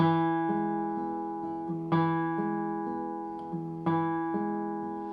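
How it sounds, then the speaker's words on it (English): A plucked guitar arpeggio repeats in an even pattern, each cycle opening with a louder, thumb-accented low note while the other finger-plucked notes stay soft and sustained. "we're going to accent our thumb and make sure the rest of our fingers are really quiet"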